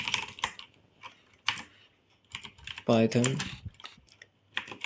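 Fingers tap away at a computer keyboard while coding in Python, producing bursts of quick, close clicks with short pauses, and someone briefly speaks in the middle.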